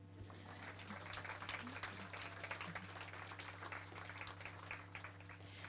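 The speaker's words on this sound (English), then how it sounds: "You can clap, it's okay." Audience at a literary reading night applauding with soft, steady clapping heard from some distance, over a low electrical hum.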